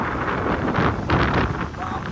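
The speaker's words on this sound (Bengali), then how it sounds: "কি হাওয়া এত ঠান্ডা হাওয়া" Cold mountain wind at Gangotri in the Himalayas gusting steadily and roaring against the microphone, with a swell in the middle and no other clear sounds.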